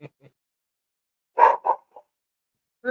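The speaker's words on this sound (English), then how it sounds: "Our dogs always bark." A few short dog barks, two louder close yelps in the middle followed by a fainter one, with quiet pauses between and a brief sound at the start and end.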